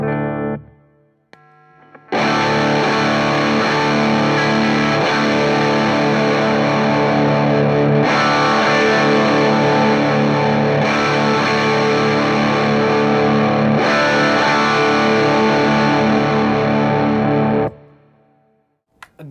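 An electric guitar plays through a Wampler Ratsbane distortion pedal with its voice switch on. Thick, loud distorted chords ring out in long sustained blocks for about fifteen seconds after a brief quiet lead-in, then fade.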